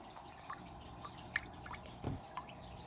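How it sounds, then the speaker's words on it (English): Water dripping into a bag that holds clown loaches being acclimated, several soft, irregular plinking drops about half a second apart, close and quiet, with no talk. "I just drip it in like that."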